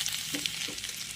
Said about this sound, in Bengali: একটু পাঁচ ফোড়ন দিয়ে দেবো, একটু জিরে দিয়ে দেবো